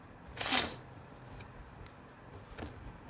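Tarot cards riffled in a brief final shuffle, a soft papery burst near the start followed by a couple of faint flicks in a quiet room.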